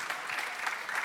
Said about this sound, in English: please give me a round of applause to thank Lily again and Yossi